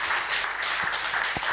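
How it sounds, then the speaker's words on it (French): An audience applauds a young girl named Mila as she is called up at a tribute event, a short burst of dense, steady clapping filling the room without pause. "Alors Mila, on peut l'applaudir"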